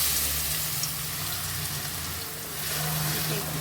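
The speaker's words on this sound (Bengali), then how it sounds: "তেলটা আমার গরম হয়ে গেছে এখন আমি যে রসুন কুচিগুলো করে রাখলাম ওটা দিয়ে দেবো" Chopped garlic sizzles loudly in hot oil, a dense, constant close hiss of frying that barely changes, alone without speech.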